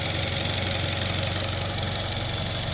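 A cheap used car with sludge under the oil cap idles steadily up close, its engine giving a constant rough, rhythmic knock throughout with no voices.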